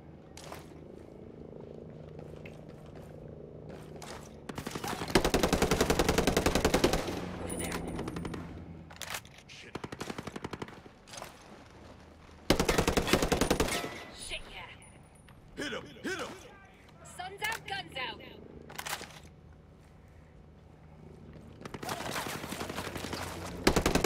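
Bursts of automatic gunfire from a military shooter game, Ghost Recon Breakpoint, erupt in several loud volleys separated by quieter stretches of ambience, with talk between the bursts.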